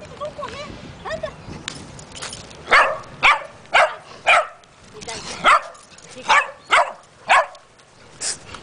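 A dog barks about a dozen times in sharp, evenly spaced bursts, close and fairly loud, with a few softer yips at the start and a quiet background between the barks.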